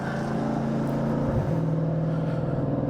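A race car's engine roars steadily from inside the cockpit during a lap at Road America, its pitch holding high before a quick gear change drops and resets the tone.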